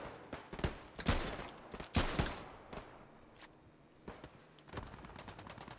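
Gunfire in the WWII shooter Hell Let Loose: repeated sharp shots and short bursts crack out at uneven intervals, some loud and close, others fainter, over a low battlefield rumble.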